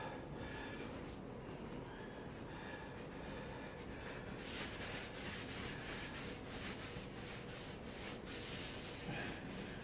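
A towel wipes excess antique-finish paint off a surface, making soft, faint rubbing strokes close by. The strokes turn brighter and scratchier partway through.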